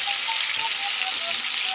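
Salmon bites frying in a pan give a dense, steady sizzle that fills the short stretch, close and fairly loud, with no talking over it.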